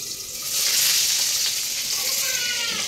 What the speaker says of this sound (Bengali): বেগুন ভাজা বসিয়েছি